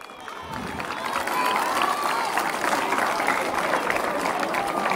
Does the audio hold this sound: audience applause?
yes